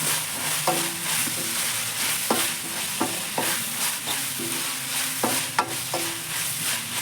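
Egg fried rice with green chilli sauce is stirred in a hot pan, a steady sizzle punctuated by repeated sharp scrapes and clinks of a utensil against the pan at an uneven rhythm, close and without talk.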